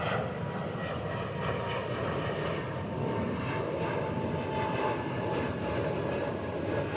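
A Breeze Airways Airbus A220 sits on the runway at DFW, its engines giving a steady, fairly distant roar with a low rumble and a faint whine, holding even throughout.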